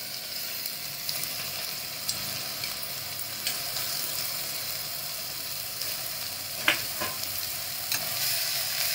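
Sprouted moth beans are tipped into a salted pan and sautéed, giving a steady, even sizzle with light stirring scrapes and an occasional louder clink. No one speaks.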